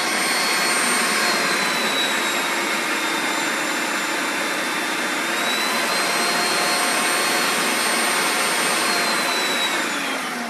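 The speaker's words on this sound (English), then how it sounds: "You just want to get all those ingredients ground up together" A food processor grinds aioli ingredients with a loud, steady high-pitched whirring roar that holds constant throughout, close and uninterrupted.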